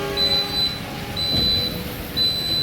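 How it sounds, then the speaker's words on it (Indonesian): A KRL commuter train departs from the station, giving a steady rolling rumble with high, piercing tones that sound, stop and return, with no talk. "Terus di KRL langsung berangkat guys."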